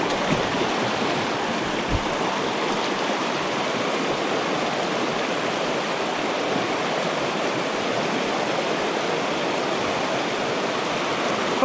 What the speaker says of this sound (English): I know the sound of the water is pretty overpowering